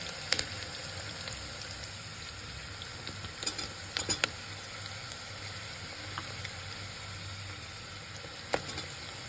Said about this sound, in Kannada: ಈಗ ಇದಕ್ಕೆ ಮಶ್ರೂಮ್ ಆ್ಯಡ್ ಮಾಡ್ಕೊಳ್ಳೋಣ